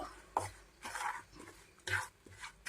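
Ground lentil powder and flattened rice are stirred into ghee in a pan, making soft, close scraping and shuffling strokes in a few uneven bursts with light clinks of the utensil.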